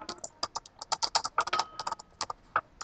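Rapid clacking of a computer keyboard during a Minecraft session, close and crisp with irregular bursts of keystrokes and no talk over it.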